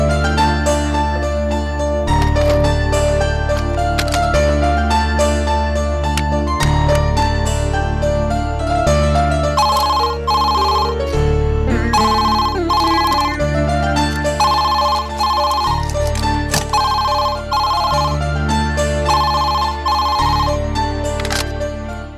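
After a call is placed, the phone rings with a loud, melodic ringtone that repeats in regular bursts with short gaps between them, with no voices over it.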